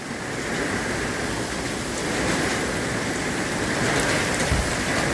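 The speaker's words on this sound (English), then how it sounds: "Can you hear the rain?" Steady rain pouring down outdoors during a backyard cookout, a dense continuous hiss of drops hitting surfaces, loud and even with no talking.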